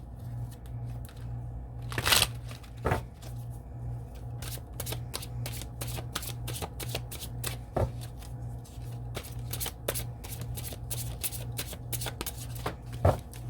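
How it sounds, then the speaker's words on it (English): Tarot cards are shuffled by hand in a long run of quick papery riffles and slaps, crisp and close, with a faint steady hum underneath. "I'm being told to pull some of these cards."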